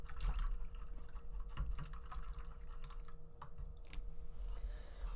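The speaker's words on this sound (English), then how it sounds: "Just gonna give my brush a little rinse here." Paintbrush swished and tapped in a water cup while painting, faint close-up clicks and small watery splashes against low room hum.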